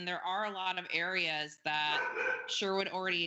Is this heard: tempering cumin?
no